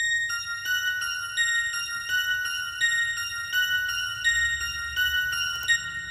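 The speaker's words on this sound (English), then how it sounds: "I added like a bell sound up underneath" Bright, sustained bell tones ring out a repeating melody over a soft low beat, the chimes clear and steady throughout.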